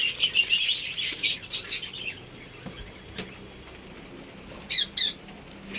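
Pet birds in an aviary chirp in quick, bright bursts, a cluster of calls at first, then a lull, then a few more sharp chirps near the end.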